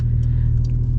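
A Porsche 911 Turbo S (992) engine roars loudly as the car accelerates hard, a dense low rumble from inside the cabin with no talking over it.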